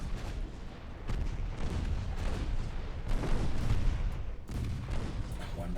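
Battleship guns firing armor-piercing shells in a naval combat game, a series of heavy booming reports roughly a second apart, each blast rolling into the next over a continuous low rumble.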